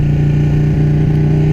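A 205-horsepower 2016 Ducati 1299 Panigale engine runs loud and close, a steady, deep pulsing idle throb without talk.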